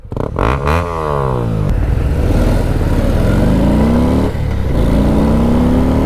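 A loud Honda CB300R motorcycle engine revs up, rising in pitch and roaring steadily close by, with a brief dip before climbing again.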